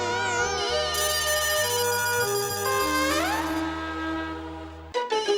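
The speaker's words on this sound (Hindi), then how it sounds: "आती अंकल का फोन" An electronic melodic ringtone plays loudly, a bright synthesized tune with a steady bass line, cutting off abruptly near the end.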